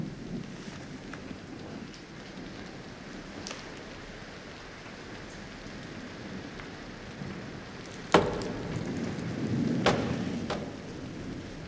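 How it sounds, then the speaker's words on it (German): Steady rain pours throughout a storm with winds up to 80 km/h, with a sharp thunder crack near the end followed by a rolling rumble, all without talk. "Sturm und Regen."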